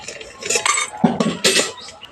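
Fried lentil dumplings (bori) lifted from hot oil in a pan with a metal utensil, a few close clinks and scrapes against the pan in quick bursts over a low background.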